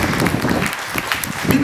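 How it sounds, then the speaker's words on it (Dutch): A crowd of visitors at the Sealife center in Blankenberge claps in brief applause, with a voice mixed in under the clapping. "Ja, dat vind ik zeker een applaus."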